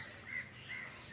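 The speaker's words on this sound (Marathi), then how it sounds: "पक्ष्यांचा किलबिलाट पण आहे।" Faint bird calls, including crow-like caws, repeat about three times in quick succession over soft ambient hush in a village at morning.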